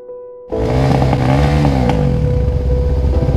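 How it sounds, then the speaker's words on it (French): A Honda CB500X motorcycle engine bursts to life loudly after a brief quiet start, then revs and rumbles steadily up close as the bike pulls away, with some mechanical clatter over the engine note. "c'est parti pour ma moto"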